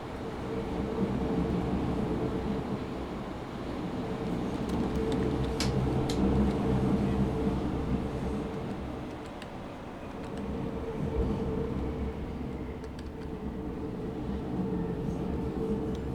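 A Berlin U-Bahn A3L92 subway train on line U3, simulated in SubwaySim 2, rumbles steadily along the track with a constant low drone and motor whine, occasional faint clicks, swelling and easing slightly, no talking.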